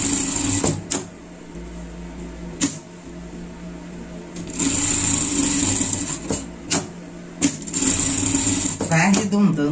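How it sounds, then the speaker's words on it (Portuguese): A sewing machine stitching fabric in bursts of steady mechanical whirring, stopping and restarting several times, with someone speaking over it. "Agora a gente vai começar na costura por tudo,"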